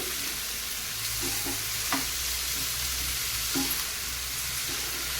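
Tomatoes fry together with onions and coconut for an onion saagu, a soft, even sizzle with occasional spatula scrapes and light taps against the pan, close and without speech.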